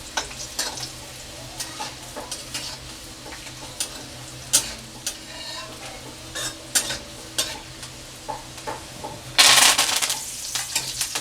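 Chilies and garlic fry in hot oil for a spicy kurmura puffed rice snack, a close crackling sizzle with repeated spoon stirs, then a sudden loud hissing burst near the end.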